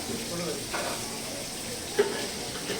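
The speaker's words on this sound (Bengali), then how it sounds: "এইটার মধ্যে পাপড় ভেজে নেবো" Papad fries in hot oil in a wok, giving a steady crackling sizzle and hiss that runs the whole time, with a couple of brief louder spits and faint background clatter, and no clear voices.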